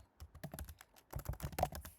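Keystrokes on a tablet or computer keyboard come as quick, close, soft taps in two short bursts with a brief pause between them.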